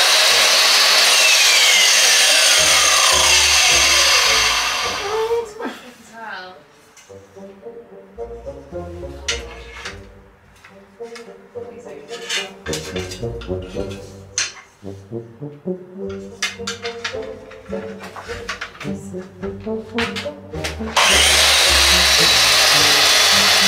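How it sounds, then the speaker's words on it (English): A power tool cuts aluminium edging for a Mercedes Sprinter van storage step, grinding in rough bursts and stutters between loud, harsh stretches of constant whine at the start and end. "Also need to cut the aluminium edging to get around the edges"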